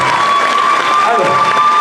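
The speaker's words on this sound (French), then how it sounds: "on l'applaudit s'il vous plaît" An audience at a cosplay event jury introduction applauds and cheers steadily for a jury member, a dense wash of clapping filling the whole moment.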